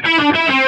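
Electric guitar through a Line 6 Helix with chorus placed after the amp and distortion, a brief sustained distorted chord with a shimmering, wavering modulation, loud and alone.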